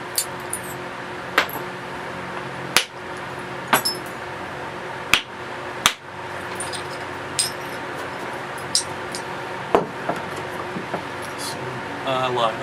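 Flint knapping, with a stone struck to take flakes off it. Sharp, bright clicks and knocks ring out at irregular moments, about a dozen in all, over faint background noise.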